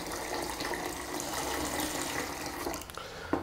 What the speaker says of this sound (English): if we put 2 cups of boiling water into the jug and 1 of cold water